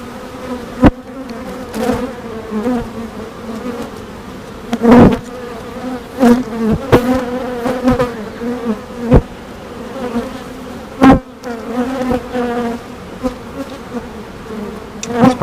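Honeybees buzz steadily around an open hive during a frame inspection, a dense continuous hum punctuated by a few sharper bumps and knocks from handling the frames.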